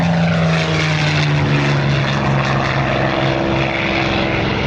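A Grumman Avenger warbird flies past at an airshow, its big propeller engine giving a loud, steady, close droning roar that holds throughout.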